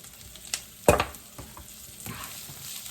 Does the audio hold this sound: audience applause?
no